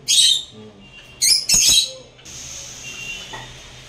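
Rosy-faced lovebirds chirp in a cage, with a few sharp, bright bursts of calls close by, then a softer, sustained twittering toward the end.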